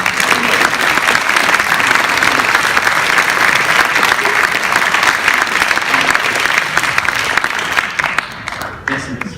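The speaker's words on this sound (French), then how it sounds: "Mesdames et messieurs, applaudissements." Loud, sustained applause from an audience at a university tribute ceremony, filling the room evenly for several seconds before tapering off at the end.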